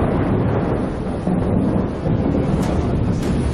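Low, sustained rumbling thunder rolls under steady rain during a storm at a cricket stadium in South Africa, loud and continuous with wind buffeting the microphone.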